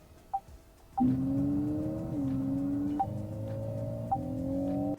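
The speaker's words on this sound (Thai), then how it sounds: "เสียงหลายสูบสปอร์ต รถแข่ง BM ยังอายเลยครับ" An ORA 07 electric sedan in Sport Plus mode plays a simulated multi-cylinder race engine: a steady droning engine tone that steps up and down in pitch. Short electronic chimes sound just before it starts and at a few later moments.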